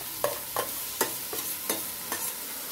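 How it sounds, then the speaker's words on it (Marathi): Black peas tipped into spiced masala in a frying pan and stirred: about six quick scraping strokes spaced roughly every half second over a soft, continuous sizzle, with no voices. "हे वाटाणे काळे वाटाणे ह्याच्यामध्ये आपल्याला टाकून द्यायचे।"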